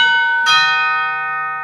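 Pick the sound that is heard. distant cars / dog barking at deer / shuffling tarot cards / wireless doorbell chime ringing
wireless doorbell chime ringing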